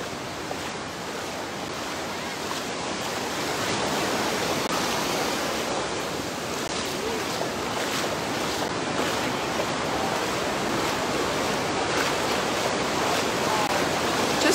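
Steady, broad roar of waves and surf on Wildwood Beach under a cloudy sky, a constant wash of breaking water heard close with some wind against the microphone and no talk.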